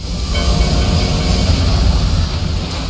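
Doomtrain summon from Final Fantasy XIV, a loud rumbling train with heavy low-end wheel clatter, hiss and a steady metallic roar throughout.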